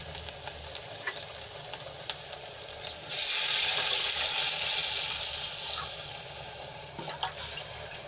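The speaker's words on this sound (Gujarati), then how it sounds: "આદુ લસણ અને મરચાં આપણા થોડાક સંતળાઈ ગયા છે તો આપણે એમાં છાસ એડ કરી લઈશું" Buttermilk poured into a pan of sautéed ginger, garlic and chillies for Gujarati kadhi, setting off a loud hissing sizzle that surges after a few seconds and slowly settles, with no voices.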